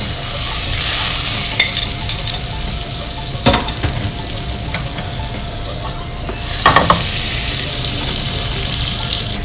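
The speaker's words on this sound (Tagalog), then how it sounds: "So, kinahanglan gisahon natin siya sa butter nga medyo hilaw lang." Chicken livers sauté in butter with a loud, continuous sizzle and frying crackle, broken by a couple of sharp stirring scrapes and clatters from a utensil against the pan.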